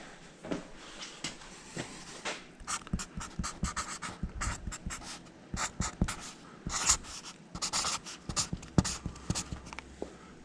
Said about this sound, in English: we'll write that on there. Got a brand new Sharpie.